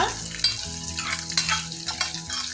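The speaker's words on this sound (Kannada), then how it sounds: "ತುಪ್ಪ ಹಾಕಿದ್ದೀನಿ ಗೋಡಂಬಿ ಹಾಕ್ಕೊಳ್ತಾ ಇದ್ದೀನಿ ದ್ರಾಕ್ಷಿನ ಹಾಕ್ಕೊಂಡಿದ್ದೀನಪ್ಪ" Cashews and raisins sizzle steadily in hot ghee in a pan while a spoon stirs them, with brief scraping clicks over the frying hiss, close and moderately loud.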